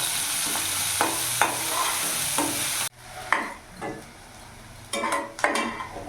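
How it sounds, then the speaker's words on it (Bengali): Chopped onions sizzle in a hot pan for a mushroom gravy, a steady close fry broken by spoon scrapes and stirring taps, briefly quieter midway before the sizzling picks up again. "এবার পেঁয়াজটা আমি ভালো করে ভেজে নেব।"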